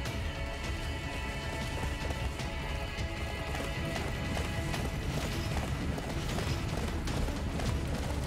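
Rapid, continuous hoofbeats of a galloping horse in the video game Attack on Titan drum along steadily over a dense background of game sound effects and music.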